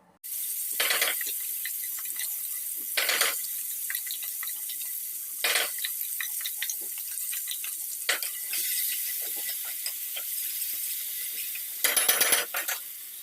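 Water is poured into a mixer jar to rinse out ground masala, then tipped into a pan of spiced puffed rice. A continuous, close watery rush is broken by several louder splashing bursts.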